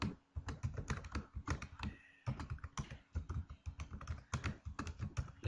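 Rapid, steady typing on a computer keyboard, dense clicking keystrokes close up with one brief pause partway through and no speech.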